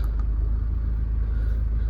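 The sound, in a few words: Range Rover Evoque 2.2 SD4 diesel engine starting up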